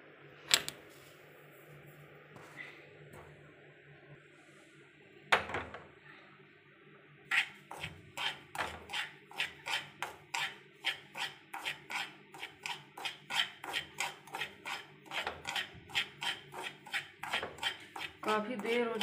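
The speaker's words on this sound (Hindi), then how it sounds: "एक कढ़ाई ले लेंगे हम," Rava (semolina) being roasted in a kadhai for laddoos, a steady run of quick scraping, rasping strokes as a spoon stirs the grains against the pan, fairly close and alone, speeding into a regular rhythm in the second half.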